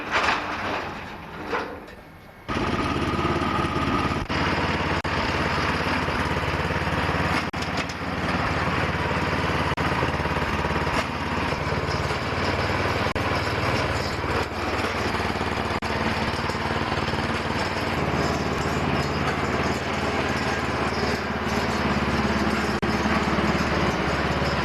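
MTD snowblower engine running after a drive cable repair, a loud steady small-engine drone close by that settles into a continuous idle, preceded by a couple of brief mechanical clunks.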